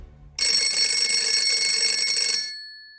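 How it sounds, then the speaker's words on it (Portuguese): An old telephone ringing with a loud, shrill, sustained bell tone that starts abruptly after brief quiet, rings steadily for about two seconds, then stops and decays away. "o telefone tocou."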